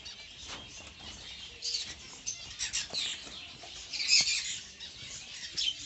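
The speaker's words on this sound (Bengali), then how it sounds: "ওই তো জাবা পাখি আছে, দেখো কতটা" Java sparrows and other small birds at a bird farm give high chirps and twitters in a busy scattered chorus, moderately close and irregular, with no clear speech.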